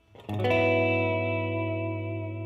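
Electric guitar strummed chord rings out through a modulated, shimmering reverb, attack then a long sustained wash that slowly decays, loud and alone.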